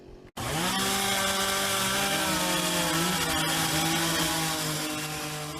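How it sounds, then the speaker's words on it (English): A chainsaw starts after a short pause, then runs loud and steady at a high, buzzing idle that slowly falls in pitch. It is close and heard alone, with no voices. "if one of y'all would grab that chainsaw and light that fucker up"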